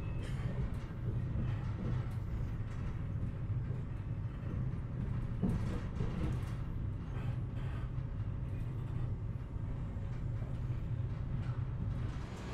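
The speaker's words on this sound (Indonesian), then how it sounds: "Tepat sesuai jadwal pukul 14:09 kereta Progo masuk di stasiun Kutoarjo ya." An economy-class Progo passenger train pulls into Kutoarjo station, a steady low rumble and rolling drone with faint squeals and knocks, heard continuously and fairly quietly from onboard or nearby.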